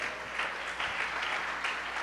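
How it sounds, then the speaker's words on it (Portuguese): A church congregation applauds loudly during a sermon, a full, sustained burst of many hands clapping together with slight swells in intensity, no speech over it. "Vamos aplaudir o Senhor bem forte"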